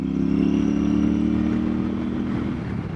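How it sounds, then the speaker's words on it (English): A belt-drive Royal Enfield Super Meteor 650, an air- and oil-cooled parallel-twin motorcycle, runs on the road with a steady, loud engine drone that eases slightly near the end, with no talk. "This bike in stock form, it's a 650 parallel twin, air cooled, oil cooled, single overhead cam, 4-valve per cylinder."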